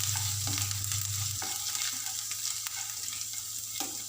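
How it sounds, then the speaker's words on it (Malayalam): Chopped ginger frying in a pan as an egg bhurji base, a continuous close sizzle with a low steady hum beneath and occasional soft stirring clicks throughout. "ഇഞ്ചി അരിഞ്ഞത് ഇട്ട് കൊടുക്കാം. എന്നിട്ട് നമ്മളിതൊന്ന് നന്നായിട്ടൊന്ന് മിക്സ് ചെയ്ത് കൊടുക്കാം."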